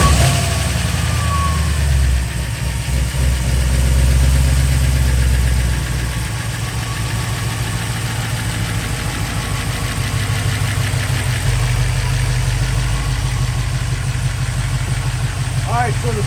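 A rebuilt, upgraded GM LSA V8 race engine running on E85 in the cool open air, a loud close rumbling idle with a lumpy, uneven beat that holds steady throughout.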